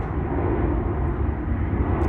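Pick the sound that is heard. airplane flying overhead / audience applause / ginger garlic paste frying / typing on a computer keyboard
airplane flying overhead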